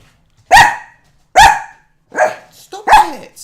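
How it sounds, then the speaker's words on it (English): A dog barks loudly and close by, four sharp barks spaced under a second apart, the last ones a little rougher, with no other sound between them. "Vicious dog."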